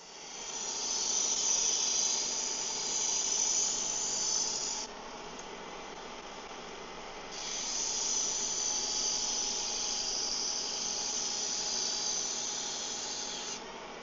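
A belt grinder hisses and whines steadily as a knife edge is refined on a gray belt, the high grinding tone dropping briefly for a few seconds before resuming at full level.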